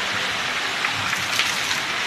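Heavy rain falls on a village in Bihar, a dense, even roar of drops with no voices.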